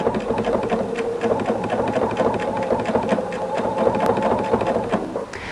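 Sewing machine running steadily in a rapid zigzag stitch, couching yarn onto quilt binding, a continuous close mechanical whir and tapping with no talk.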